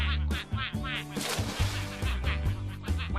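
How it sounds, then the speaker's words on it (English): Ducks on a farm pond quack in a busy series of loud, repeated honking calls close by, with some overlapping splashy noise in the middle. "it's good to see the ducks back on their pond again"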